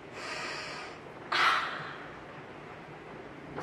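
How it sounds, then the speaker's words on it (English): A single sharp nasal sniff of an underarm, testing deodorant, close to the microphone, standing out briefly over a faint hiss of room noise. "Let's do a sniff test."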